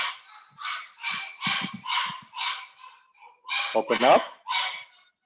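A puppy gives a few short yelping barks partway through, fairly close, breaking in among a person's steady talking during an indoor exercise session.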